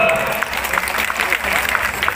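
Crowd applause for the regent of Batubara at a village gathering, a steady mass of clapping running throughout with voices mixed in.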